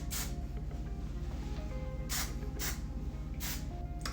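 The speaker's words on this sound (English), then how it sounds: "Now I'm gonna grab some hairspray and" Hairspray hisses onto hair in short aerosol bursts, one near the start, two close together midway and another near the end, close over a steady background hum.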